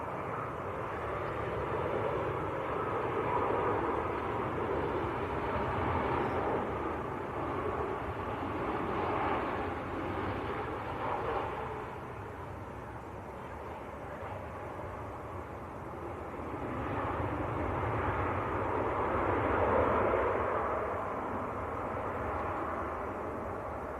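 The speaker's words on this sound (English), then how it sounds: "This is the Saudi 123 from Jeddah 787-10. It's the long one." A Saudia Boeing 787-10 from Jeddah at Manchester Airport, a long steady roar of jet engines at a distance, swelling and easing over the whole stretch with no talk.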